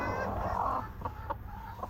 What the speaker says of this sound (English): have a broody chicken